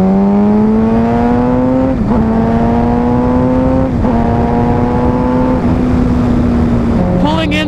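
A Suzuki GSX-R 750 motorcycle engine drones loud and close, its pitch climbing steadily through each gear and then dipping sharply at about four quick shifts, with a final rev change near the end.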